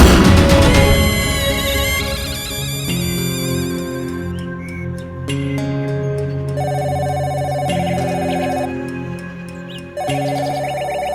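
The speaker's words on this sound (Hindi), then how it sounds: "अरे राजू साहब का फोन।" A telephone rings with a loud, melodic electronic ringtone that repeats in a steady pattern through the whole clip, with no voices.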